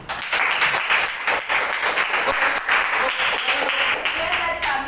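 A classroom of students applauds after a presentation, dense rapid clapping that stays loud and steady from start to finish, with some voices mixed in.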